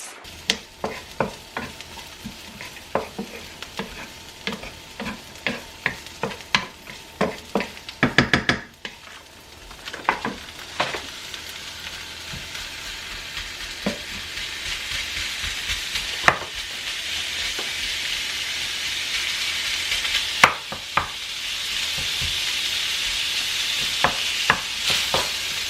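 Minced meat fries in garlic-infused olive oil over low heat. A steady sizzle builds beneath frequent sharp scrapes and knocks of a utensil stirring against the pan, with the sizzle growing louder toward the end.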